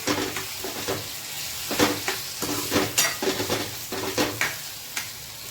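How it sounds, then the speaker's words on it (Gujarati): Spiced Gujarati potato sukhi bhaji, with ginger paste and coriander-cumin powder, sautés in a pan with a continuous sizzle while a spoon scrapes and clicks against the metal in an uneven rhythm. "હવે આપણે આને થોડું મિક્સ કરી લેશું અને 2 મિનિટ સાતળવા દેશું"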